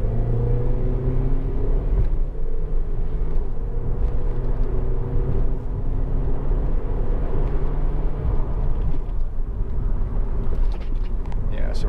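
A 2009 Honda Civic 1.8 i-VTEC automatic drives over a bumpy road, its engine rumbling and rising under acceleration before easing off, with someone speaking over the steady road noise.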